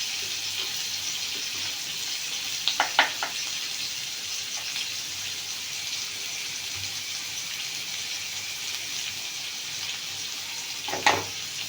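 Ingredients for palak paneer sauté quietly in a pan, a soft steady sizzle with a few brief clinks and scrapes of stirring.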